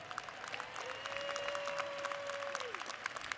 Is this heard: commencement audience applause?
yes